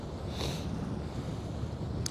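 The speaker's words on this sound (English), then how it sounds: "It is rough out here, and it is windy." Wind roars steadily across the microphone with a low rumbling buffet on rough water at Wister Lake during a fishing tournament, joined by a brief hiss of spray or water.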